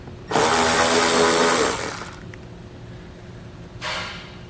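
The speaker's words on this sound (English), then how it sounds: "Take an 8mm socket, remove the bolt underneath the reflector." A ratchet on an 8mm socket spins out a bolt beneath the rear reflector of a 2013 BMW X5, giving one loud, close burst of rapid clicking that fades, followed by a short second burst.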